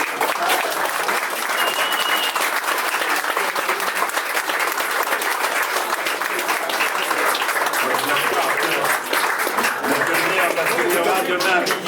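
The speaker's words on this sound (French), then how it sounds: "vous demande de lui faire encore, c'est gratuit, un tonnerre d'applaudissements" Thunderous applause from the audience at an anniversary gathering for an ACA and Gazelec veterans' match supporting Alzheimer's, a loud, continuous, crackling roar of many hands clapping that never lets up.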